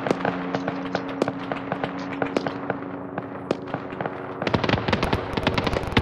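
Heavy rounds fire in ArmA 3, rapid cracking bursts at an uneven rhythm, some distant and others close and loud, with a low radio-like hum beneath the early shots.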